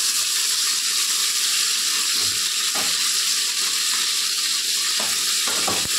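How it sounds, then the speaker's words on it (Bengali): Fish frying in hot oil in a home kitchen, a loud, steady hiss and crackle that fills the whole stretch, with a few soft clicks and bumps. "এবার মাছটা তেলে দিয়ে দেবো।"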